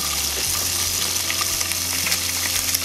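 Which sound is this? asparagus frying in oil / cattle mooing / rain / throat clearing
asparagus frying in oil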